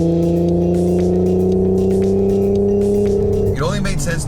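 A sports car engine with a Remus exhaust idles and drones with a deep, steady exhaust rumble, then revs up sharply near the end, loud and close.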